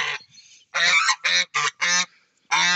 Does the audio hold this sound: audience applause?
no